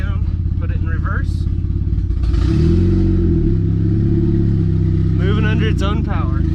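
A K-swapped Mazda B2300 pickup moves under its own power with a steady engine hum. The engine swells louder partway through, and voices talk briefly over it near the start and end.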